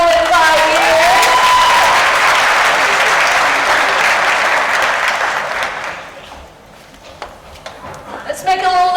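Loud, dense applause from an audience at a December workplace monthly celebration honoring employee anniversaries, sustained for several seconds then fading into scattered claps and murmurs, with a voice briefly heard at the start.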